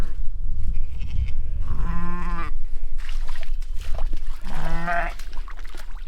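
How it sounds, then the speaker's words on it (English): Two loud, wavering bleats from sheep close by on a farm, separated by a pause, over a low outdoor rumble and some rustling. "Sheep hate the mud and the water."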